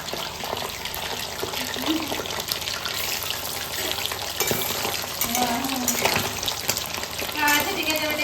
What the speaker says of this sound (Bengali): অ্যারারুট বলতে কর্ন স্টার্চের জন্য মনে হয় এরকম ফুটছে